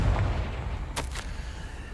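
The Confringo blasting spell fires in Hogwarts Legacy, two quick muffled bursts close together over a low rumbling game background.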